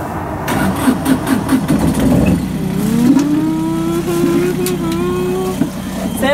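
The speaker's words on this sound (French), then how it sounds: "on vient d'entendre le moteur, c'est le début du périple vers les Açores" A sailboat's engine turns over and settles into a steady low running drone at the start of a passage toward the Azores, with people talking over it.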